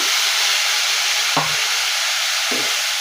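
A little water poured into a pan of fried vermicelli with sugar, giving a loud, steady hiss and sizzle close by, with a brief clatter of stirring in the middle.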